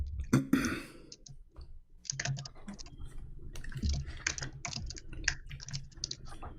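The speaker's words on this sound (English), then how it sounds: "He's fighting the keyboard." Rapid clicking keystrokes on a computer keyboard come in uneven bursts and pauses as someone types hurriedly, close and distinct with no voices over them.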